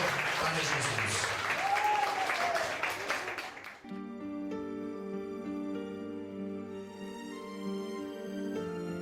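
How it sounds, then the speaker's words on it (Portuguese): Loud, dense clapping from a church congregation at a Pentecostal service for several seconds, then fading as sustained music with steady tones takes over. "Uma salva de palmas bem forte para Jesus."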